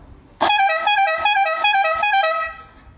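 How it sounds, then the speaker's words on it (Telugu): A single loud, close blast from a red three-pipe motorcycle air horn lasting about two seconds, bright and brassy, then cut off. "నేను హార్న్ అయితే లాక్ ఆన్ చేశాను, ఇంకొట్టి చూపిస్తుంది చూడండి మీకు"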